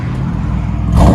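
Chevy Impala LTZ with a 3.6L V6 and its resonator cut off, exhaust revving: a steady deep rumble that swells louder near the end, close and alone with no talk.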